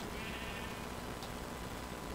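Sheep bleating in the Minecraft video game, a few soft bleats over a steady noisy background with no talk.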